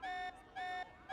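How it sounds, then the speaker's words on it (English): Two long, steady electronic alarm tones from Xenoblade Chronicles 3, each held for about a quarter second with a short gap between, bright and harmonic, sounding alone at moderate volume. "What's that alarm?"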